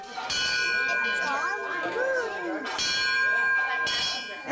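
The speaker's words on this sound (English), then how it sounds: "Anybody else want to give the bell a try?" A large bell rung by pulling its rope at a fire-safety demonstration for preschoolers strikes loudly three times in slow succession, each clang ringing on with a long shimmering decay while a voice speaks faintly between strokes.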